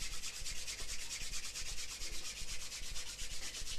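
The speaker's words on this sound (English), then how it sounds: "rub your hands together" Palms rubbing together briskly during a face-massage warm-up, a steady close, continuous swishing friction with no talk over it.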